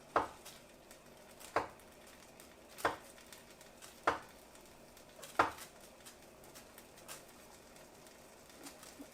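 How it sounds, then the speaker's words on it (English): A knife slicing mushrooms into fairly big pieces, making about six or seven crisp, evenly spaced cuts roughly a second apart, close and clear with no talking. "Just slicing these mushrooms, leaving them fairly big."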